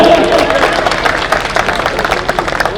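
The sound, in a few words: audience applause, clapping at election rally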